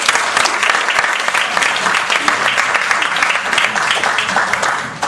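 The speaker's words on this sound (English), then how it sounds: "let's give a round of applause to welcome Mr." Audience at a hotel business event applauding to welcome a speaker, a loud, dense burst of clapping that holds steady for about five seconds before tapering off at the end.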